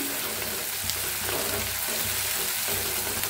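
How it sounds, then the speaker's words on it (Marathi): Onion, green chilli and garlic fry in oil for a dill-leaf bhaji, making a steady, close sizzle that holds evenly throughout with a faint low hum beneath. "आता भाजून घेऊया आपण कांदा, हिरवी मिरची आणि लसूण।"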